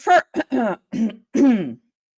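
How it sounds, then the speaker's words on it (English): Several short, gravelly throat-clearing bursts in quick succession, close to the mic, then silence. "I would like to clear my throat"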